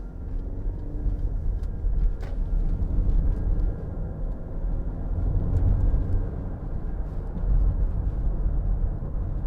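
A Range Rover Evoque SD4 Pure Tech AWD diesel driving along a bumpy road, heard from inside as a steady low engine and road drone with faint knocks and rattles from the uneven surface.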